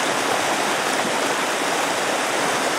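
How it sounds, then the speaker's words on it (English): A very full, high creek rushes steadily, a full, continuous broadband roar with no pauses, close by and fairly loud. "Well, here's the creek."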